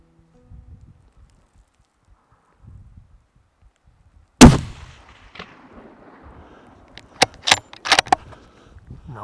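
A single sharp, loud rifle shot at a chamois in New Zealand's Southern Alps mountains, cracking suddenly after quiet and trailing a brief echo, followed by a few small clicks and rustles.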